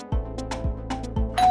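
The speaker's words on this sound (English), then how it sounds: "That sounds like your doorbell." A doorbell rings three times in quick succession, each strike clear and close, with a short ringing tail after the last.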